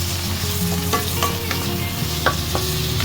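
Tomatoes, ginger and onion sauté and sizzle in a pan under steady frying noise, with occasional scrapes and clinks of a spoon stirring.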